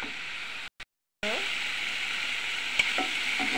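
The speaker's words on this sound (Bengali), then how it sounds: "মাছগুলোকে নেড়ে ছেড়ে নেব যেন মশলার সঙ্গে মিশে যায়।" Fish frying with spices in a hot pan, a steady loud sizzle broken by a brief silent gap, with scraping stirring strokes audible near the end.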